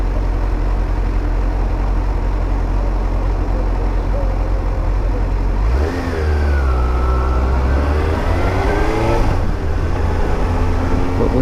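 Suzuki GSR750 motorcycle ridden with the visor cracked open, engine droning steadily under heavy wind noise, then revving up through rising pitch sweeps partway through.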